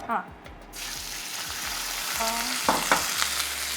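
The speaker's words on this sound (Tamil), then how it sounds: "எண்ணெய் சூடாயிடுச்சு. அடுத்ததுல சிக்கன் ஆட் பண்ண போகிறோம்." Chicken breast pieces sizzle in hot oil in a pan, a loud steady frying hiss with clattering stirring and scraping, while people talk briefly in the background.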